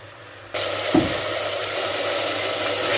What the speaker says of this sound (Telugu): కొంచెంసేపు మీడియం ఫ్లేమ్లో పెట్టి మూత పెట్టకుండా ఫ్రై చేద్దాం